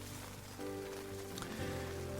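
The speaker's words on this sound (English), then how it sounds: "it started to rain, and it sounds like it's in for a while" Steady rain falling on a tent in the Scottish Highlands, a continuous soft patter with no voices.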